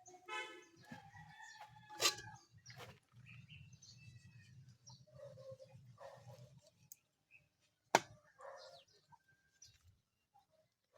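A chicken kept for slaughter clucks and crows at the start, then gives scattered softer clucks amid quiet farmyard background noise with a sharp knock partway through.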